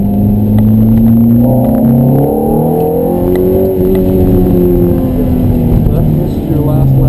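A Ferrari F430 engine on a racetrack during a driving experience, loud sustained engine drone rising and falling with throttle as the car slows for corners, heard from inside with an instructor talking over it.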